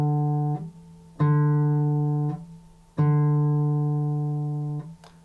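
Fingerstyle thumb strokes on an acoustic guitar give three separate plucked notes, each ringing clearly and fading slowly, with a soft touch between strokes and no talking.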